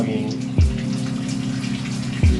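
Shower water runs in a steady, full hiss close by, with two dull low thumps breaking through about a second and a half apart.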